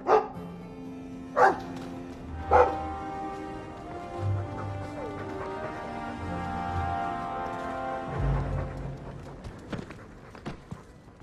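In the Dragon Age II video game, a dog gives three sharp barks in quick succession, then footsteps and low game sounds carry on with some quieter movement afterward.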